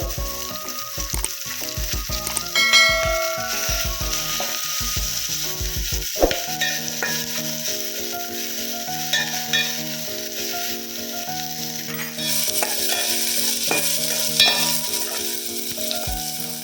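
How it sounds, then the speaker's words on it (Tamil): Steady sizzling of onions, garlic and curry leaves sautéing in a hot pan, with occasional stirring scrapes and clinks throughout, close and moderately loud, no talking. "பூண்டு, கருவேப்பிலை, வெங்காயம், லைட்டாக வதங்கட்டும்."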